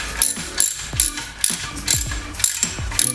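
Rapid ratchet clicks in short repeated bursts, close and fairly loud, as a wrench snugs a Teflon-coated bolt on a Dodge Viper ACR transmission; no voices.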